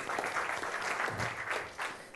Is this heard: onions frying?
no